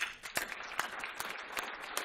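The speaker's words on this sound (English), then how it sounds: "And I want you to give yourselves a round of applause" A standing audience at an event with the national anthem claps in a brief burst of applause, a dense patter of hands with a few sharper individual claps standing out, moderately loud and without talk.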